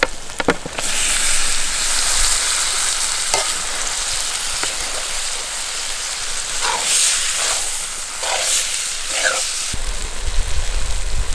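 Tomatoes fry with onion and ginger-garlic paste in a hot pan for a Kerala-style fish pollichathu masala, giving a loud, steady sizzle broken by occasional scrapes and clinks of stirring.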